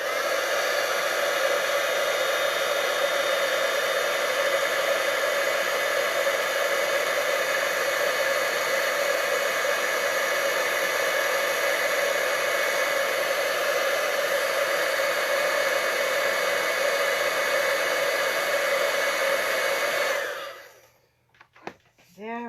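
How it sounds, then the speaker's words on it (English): Heat tool for card stamping blowing with a steady, loud whooshing whine for about twenty seconds, then cutting off abruptly, followed by a brief clatter. "I'm just going to plug in my heat tool here"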